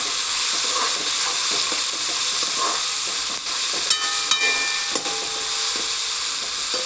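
Chopped tomato and potato frying and being stirred in a hot pan, a loud, steady sizzle and hiss with occasional scrapes and clinks of the spoon, no talking.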